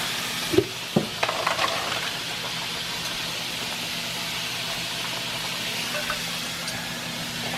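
Chicken sizzles and fries steadily in a pan, a continuous close hiss with a few sharp clinks and knocks of utensils near the start.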